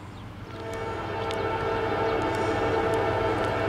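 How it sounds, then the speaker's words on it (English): Norfolk Southern 823 westbound freight train passing, a steady loud rumble that builds over a few seconds with a droning tonal horn-like hum, no voices. "here we have Norfolk Southern 823 westbound"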